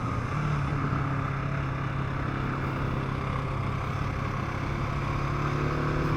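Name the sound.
KTM 690 SMC R motorcycle riding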